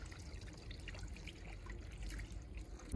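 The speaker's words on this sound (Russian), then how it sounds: "Это дело потихонечку смываем водой" Water gently rinses a cement-sand mix off granite, making a soft, continuous trickle and splash with small irregular drips, faint and without speech.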